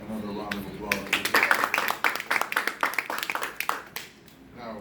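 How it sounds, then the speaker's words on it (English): An audience gives a short round of applause for earlier speakers at a talk on equality, scattered claps building into a brief burst and then thinning out, with faint voices at the edges. "Let's give all of the speakers that came up before another round of applause."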